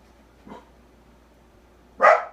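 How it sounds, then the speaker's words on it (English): Dogs bark indoors: one faint, short bark, then after a pause a single louder, closer bark with no speech. "Our dogs."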